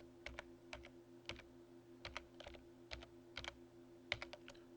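Typing on a computer keyboard as a single word is entered, quick clusters of light, close key clicks over a faint steady electrical hum.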